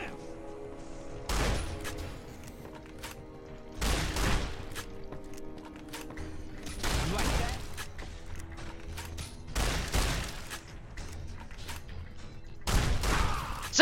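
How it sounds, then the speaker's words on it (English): Shotgun blasts in the video game Fallout New Vegas, five loud booming shots spaced a couple of seconds apart, each followed by mechanical clicks and creaks of reloading between them. "Let's get a little shotgun action going on."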